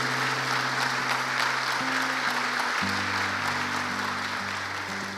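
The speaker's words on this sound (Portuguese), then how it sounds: "Pode aplaudir a palavra do Senhor." A church congregation applauds steadily and close, a sustained wash of clapping with a faint tone held underneath.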